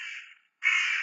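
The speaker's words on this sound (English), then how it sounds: "these are crows" Crows caw from an ambience app recording: two close, harsh calls separated by a short silent gap, the second louder and longer.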